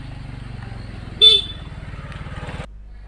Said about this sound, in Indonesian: Motornya kenceng-kenceng di sini